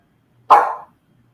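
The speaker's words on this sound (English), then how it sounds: "It's a dog." A dog lets out one loud, sharp bark close by, a sudden burst that fades quickly into silence.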